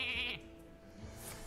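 Brief sheep bleat from a Hearthstone card game, a short bright nasal cry at the very start that fades into quieter background hum with no talking.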